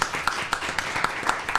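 Audience applause greeting a speaker at a live recorded talk on addiction recovery, sparse rhythmic clapping from a modest crowd, fairly near.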